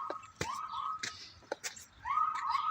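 A police siren wails faintly in the distance outside a cathedral, rising and holding in sweeping tones between sharp clicks and knocks nearby.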